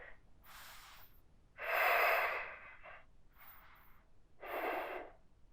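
Deep, breathy exhales during a stretching routine, a few separate pushes of air close to the mic, the second and last strongest, with quiet pauses between.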